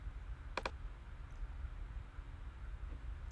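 A mouse gives a single quick double click during a software screen recording. The click is crisp and close against a faint hiss of background noise.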